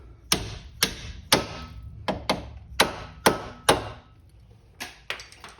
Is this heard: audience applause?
no